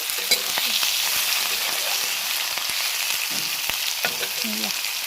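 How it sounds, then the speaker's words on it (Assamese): Onions and green chillies sizzle and fry in a pan for potato curry, a steady crackling hiss with occasional scrapes and stirring knocks, close and even throughout. "পিঁয়াজ জলকীয়াখিনিও ভালকৈ ভাজি ল'ম।"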